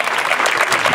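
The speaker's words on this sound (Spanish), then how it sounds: "para quien les pide un fuerte aplauso" Crowd at a Día de Reyes event in Loma Bonita applauding a councilwoman as she is introduced; a short, loud, dense burst of many hands clapping together.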